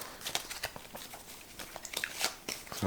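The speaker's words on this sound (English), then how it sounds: "I'm going to take a moment to shuffle these cards up." Playing cards shuffled during a solo tabletop game of Raiders of the North Sea, a quiet run of crisp riffling and flicking snaps spread irregularly across the moment, close and faint with no talk.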